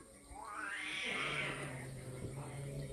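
Local cat giving one drawn-out, rising and falling meow over a steady background hum, fairly close and moderately loud.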